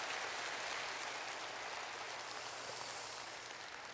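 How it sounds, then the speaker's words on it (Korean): An audience applauds the performers at a traditional Korean music concert featuring Sujecheon, a steady, even hiss of many hands clapping that fills the whole four seconds without a break. "수고하신 여러분에게 다시 한번 박수 부탁드리겠습니다."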